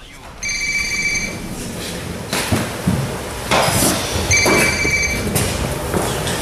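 Telephone bell ringing in two bursts over steady background noise from a radio rap show, with a voice speaking over it.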